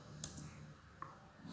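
A couple of sharp, isolated key clicks from a computer keyboard while a command is typed on a Windows PC, quiet and sparse over a low background hum.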